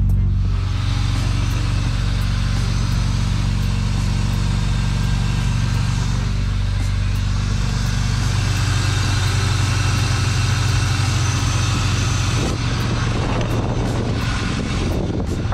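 A BMW E36 engine starts and runs at a steady idle with a low, constant rumble, shifting slightly partway through and a brief rattle near the end.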